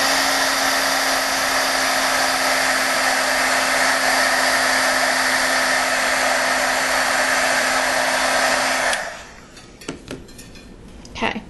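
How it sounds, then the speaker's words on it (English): Heat gun blowing a steady, loud whooshing hum for about nine seconds while drying masking fluid on watercolor paper, then cutting off, leaving a few faint clicks and handling sounds. "hit this with my heat gun"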